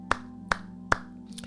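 Three sharp, evenly spaced hand claps, close and fairly quiet over a low steady hum, with a fainter fourth clap at the very end.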